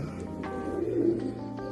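Pigeons coo softly in a room kept for them, low repeated calls close by over a steady background hum.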